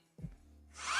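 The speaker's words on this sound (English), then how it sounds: "I'm going to turn this vacuum on," A vacuum cleaner switched on nearby, starting with a thump and low motor hum, then rising into a loud, steady high-pitched whine as it spins up.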